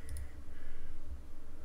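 A computer mouse gives a brief, faint click or two right at the start while a PC is being set up to map keys to a gamepad, over a low background hum.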